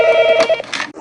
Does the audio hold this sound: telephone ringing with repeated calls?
yes